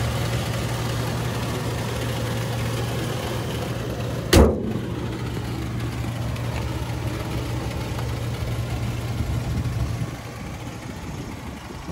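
The V6 engine of a 2006 Toyota Tacoma with 165,298 miles idles with a steady low hum and even drone, broken once by a sharp thump or clack partway through, then settling back to the smooth idle.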